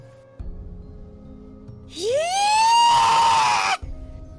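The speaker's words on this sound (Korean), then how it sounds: "들어본 적 있는 비명이 들렸다." A middle-aged woman screams in a Korean horror audio drama: a single loud shriek sweeps upward and holds for nearly two seconds, alone after a quiet, low background hum.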